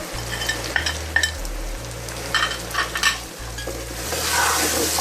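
Mutton frying with garlic and ginger in a pot, stirred steadily with a metal utensil over a constant sizzle, scraping strokes repeating close up with no talking.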